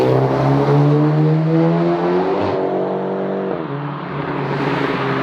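A VW Scirocco R with a loud pop-and-bang exhaust roars past, its engine note rising and shifting through gears before fading away after a couple of seconds, loud and close with no talk.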